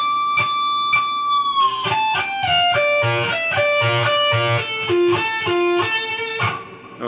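An electric guitar plays a solo phrase from a song, a fast run of clear sustained notes that bend and descend before climbing again, loud and up close with light distortion and no talk.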